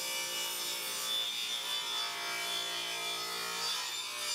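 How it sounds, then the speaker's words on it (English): A wooden board is sawn at a 45-degree angle to make a French cleat for a light box sign. The cutting is a steady, continuous rasp that stays close and even throughout, with no talking. "This top board, I'm going to go ahead and cut at a 45-degree angle in the middle"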